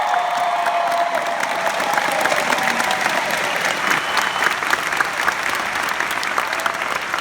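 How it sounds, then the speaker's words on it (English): A large convention-panel audience applauds Jeff Goldblum in an even, sustained burst of clapping that stays loud and steady throughout, with a few faint cheers mixed in. "And this deserves a round of applause."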